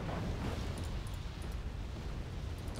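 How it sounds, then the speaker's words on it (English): A dense, continuous rumbling roar of explosions in the video game Wargame: Red Dragon fills the clip, loud and sustained with no clear breaks and no speech. "Again, a couple of explosions."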